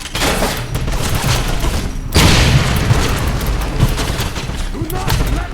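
A grenade blows up with a loud, close boom in the Wolfenstein video game, amid continuous gunfire and shouting voices.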